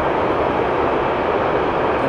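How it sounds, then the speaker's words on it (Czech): Wide steady roar of a freight train passing nearby outdoors, loud and continuous without pause, with no voices heard. "teď to je nakladní vlak"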